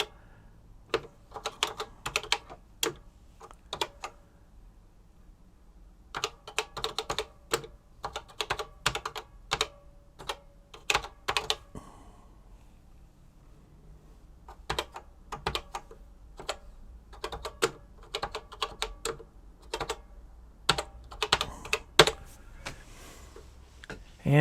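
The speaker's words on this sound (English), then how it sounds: "I want to test the keyboard again really quickly just to make sure everything's in order." Typing on the keyboard of a reassembled TRS-80 Color Computer 2 after repair, with bursts of sharp, close key clicks in quick irregular runs separated by short pauses, no voices.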